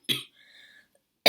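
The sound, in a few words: coughing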